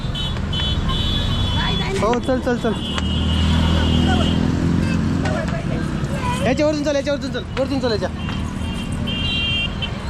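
A crowded city street during a Ganpati immersion procession carries a steady rumble of vehicles and several sustained horn toots, while people nearby talk over the traffic.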